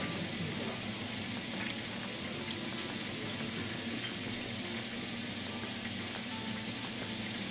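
Wild boar meat sears in a pan over medium heat, a steady, hissing sizzle that runs throughout at moderate volume.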